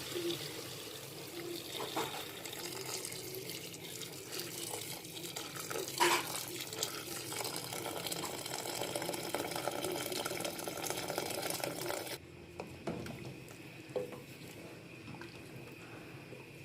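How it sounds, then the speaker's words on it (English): A steady stream of water pours into a pot of maghlooba, an Arabic dish, for about twelve seconds, then cuts off, leaving quieter background noise. "Into this goes water."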